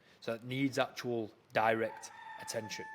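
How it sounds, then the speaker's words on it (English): Chickens and cockerels cluck and crow close by in a village setting, with bursts of loud fowl calls heard beneath someone talking throughout. "there are chickens going nuts right now"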